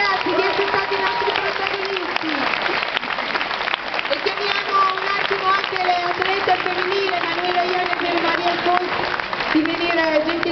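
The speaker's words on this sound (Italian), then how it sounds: "E un applauso finale" Closing applause at an Ironman Italian championship ceremony in Elba, with steady crowd clapping running throughout under a speaker's amplified voice.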